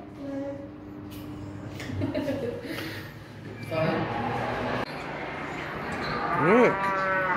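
Cattle moo at a Cattle Raisers Museum exhibit, with several drawn-out lowing calls, the loudest near the end, mixed with voices and background noise.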